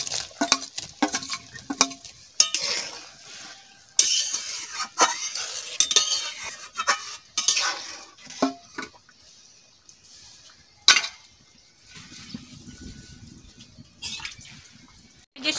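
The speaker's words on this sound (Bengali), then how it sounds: "এবারে আমি মাছ দিয়ে দিচ্ছি।" Fish pieces go into a pan of mango curry with metal utensil clinks, scrapes and stirring knocks, followed by softer sizzling and bubbling toward the end.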